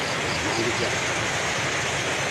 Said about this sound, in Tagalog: malakas pa ang baha medol